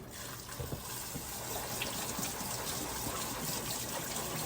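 Red lentils are rinsed under a running kitchen tap in a steady, close gush of water that continues throughout with faint splashing, and no one speaks.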